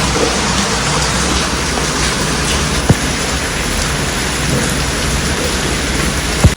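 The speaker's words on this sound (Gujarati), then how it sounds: "ધોધમાર તો ખરેખર હવે ધોધમાર ચાલુ થયો" Heavy rain pours down in a loud, dense, unbroken roar, with a couple of sharp knocks cutting through.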